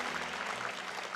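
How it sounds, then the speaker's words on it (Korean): A congregation at a Christmas thanksgiving church service applauds in congratulation for families after infant baptism, with steady, moderately faint clapping from many hands and a low hum underneath. "다시 한번 축하 박수 드리고"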